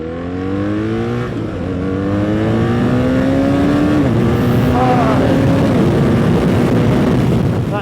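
A BMW R1300GS motorcycle accelerates hard from a standing start, its engine pitch climbing through several rising gear steps with brief dips at each shift, loud and close.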